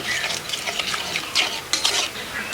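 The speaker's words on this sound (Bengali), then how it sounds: "এটা এবার ভালো করে মিশিয়ে নিয়ে আবারও উনুনটা ধরিয়ে নেব" Chicken masala spices, including turmeric, whole garam masala and green chillies, are stirred in a pot at an outdoor village cooking setting, giving a scraping, clattering sound with soft sizzling, close by and with no talk.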